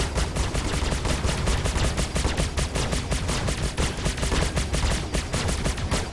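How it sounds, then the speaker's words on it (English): Sustained automatic ship weapon fire in the Star Citizen video game, a rapid, even stream of shots repeating without pause for several seconds, loud and continuous with no voices. "Now that's quite some sustained fire."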